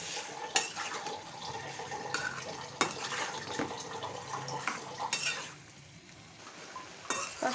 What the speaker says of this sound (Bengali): পাস্তাটা আমি নেড়ে দিচ্ছি।